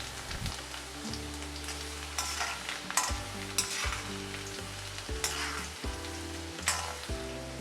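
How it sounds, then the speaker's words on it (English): Chopped garlic and methi seeds sauté in a hot pan for a spinach potato dish. The oil sizzles steadily under it, and a spoon scrapes and clatters now and then, close up, with no voices. "Add 2 teaspoons finely chopped garlic and saute well."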